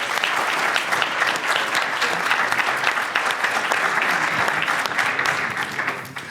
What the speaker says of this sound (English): can we get one more round of applause for all the founders today?